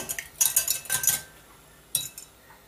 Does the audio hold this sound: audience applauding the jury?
no